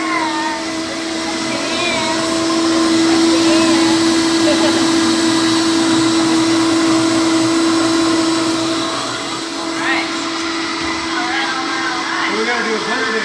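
A kitchen blender runs loud and steady with a high whine, holding for several seconds before easing off, with voices talking over it.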